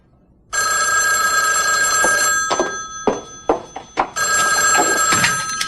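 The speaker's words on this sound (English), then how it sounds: "let me make one more phone call first" A telephone bell rings loudly and close by, starting abruptly and continuing in bursts, with brief gaps and a few knocks or clatters before the ringing resumes.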